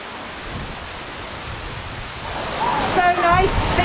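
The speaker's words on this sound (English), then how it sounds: "And there it is, a 115-foot waterfall." A 115-foot waterfall pours in a steady, broad roar that fills the whole clip, growing slightly louder toward the end as a voice speaks briefly over it.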